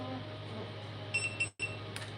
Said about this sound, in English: something's beeping. I have so many drones going.